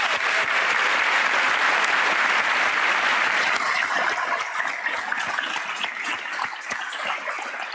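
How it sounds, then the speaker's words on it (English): Graduates and guests at a 2025 public health graduation ceremony give a long, full round of applause, dense clapping that gradually thins and softens toward the end, with scattered individual claps standing out. "So let's pause and give yourselves a round of applause"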